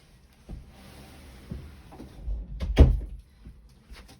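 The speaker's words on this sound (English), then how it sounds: "let me just shut the door so that you can't hear that quite so loudly." Rustling and light knocks lead into a solid thud as a door is pushed shut, followed by a few softer clicks and bumps.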